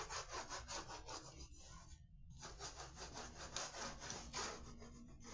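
A hand rubs a card down against a surface in rapid back-and-forth strokes, a close, soft, rhythmic scratchy rasping with one brief pause partway through.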